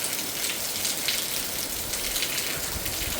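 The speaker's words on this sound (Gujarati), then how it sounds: "અમારે આ મોરબીમાં વરસાદ બંધ નથી થતો લ્યો." Heavy, continuous monsoon rain falling in Morbi, a dense and steady hiss of drops hitting surfaces, loud and unbroken throughout with no voices.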